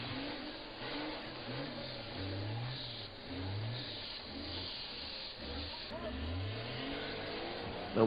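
A Nissan Patrol off-road vehicle's engine revs repeatedly in rising and falling surges, somewhat distant, with a person talking over the steady background.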